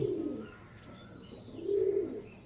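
Soft, low coos from Star Kalanka pigeons sound twice, a short pause between them, fairly close and quiet.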